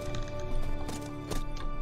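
Hooves clip-clop steadily from a red-and-white horse in the video game Horse Riding Tales, a continuous close rhythm over game music with a faint whinny-like layer.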